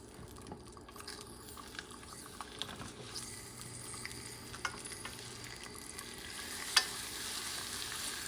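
Red pepper chunks sauté in oil over medium-high heat in a pan, giving a steady, fairly quiet sizzle with scattered pops and a few sharper crackles, and no voices.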